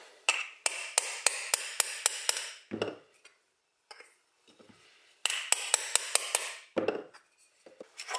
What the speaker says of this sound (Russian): Далее берем керн и молоток